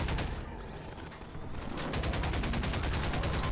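Sustained rapid AR2 rifle fire in a video game, a loud, dense stream of shots that rattles on almost without pause.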